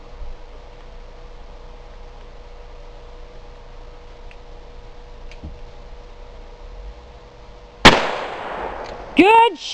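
A single sharp, loud gunshot rings out outdoors while hunting a bird for dinner, after a long stretch of quiet background, followed moments later by voices.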